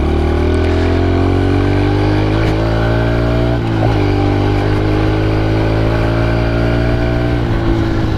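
A 2015 Honda CRF110 dirt bike engine revs and accelerates on an open road, its buzzing note climbing steadily through a gear change, loud and close throughout.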